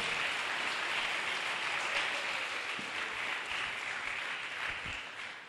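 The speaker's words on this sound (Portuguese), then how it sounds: "Aplauda bem forte ao Senhor." Congregation applauding loudly in a church during an inauguration service, a dense, sustained wash of clapping that fills the room steadily and fades slightly at the end.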